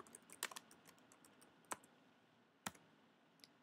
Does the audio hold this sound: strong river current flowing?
no